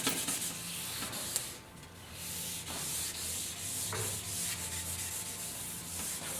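Willow charcoal rubbed onto paper to coat it, a continuous close, scratchy rubbing in back-and-forth strokes with brief pauses, no talk.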